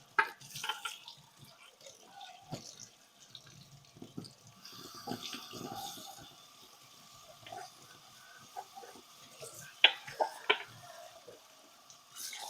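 Warm tap water running into a sink while a Brita water pitcher and filter are cleaned, a faint trickling stream with occasional drips and clinks of handling, fairly quiet throughout.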